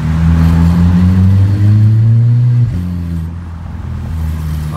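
Engine note of a VW Jetta TSI 2.0 fitted with an exhaust diffuser, a loud steady droning rumble that holds, dips briefly as if shifting, then carries on at a lower pitch from inside the car.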